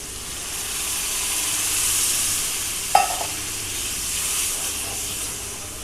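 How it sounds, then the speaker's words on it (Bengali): Potato and onion frying in a pan give a steady sizzling hiss, with one brief sharper splash-like burst near the middle as water goes in, then the sizzle settles back to an even level. "এখন আমি জল ঢেলে দিব।"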